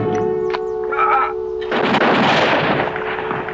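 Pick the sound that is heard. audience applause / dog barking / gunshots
gunshots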